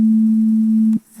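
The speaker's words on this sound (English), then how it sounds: "here's the same sine sound again." A synthesized sine wave tone from Game Boy audio hardware emulation, a steady pure hum holding for about a second before cutting off abruptly.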